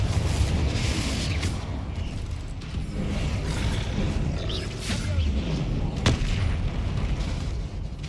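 Explosive spell impacts from the Hogwarts Legacy video game, repeated booms and crackling blasts over a continuous rumbling background, with a voice calling out spell names throughout.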